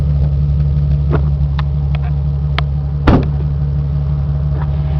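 A 2005 Ford Mustang convertible's engine idles close by, a steady throaty low rumble that runs throughout, with a short louder blip near the middle.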